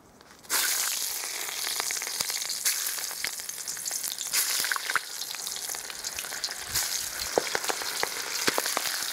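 Onion pieces fry in a hot new 12-litre cauldron, a dense continuous sizzle that starts abruptly and stays steady and close, with sharp crackles and pops scattered through it.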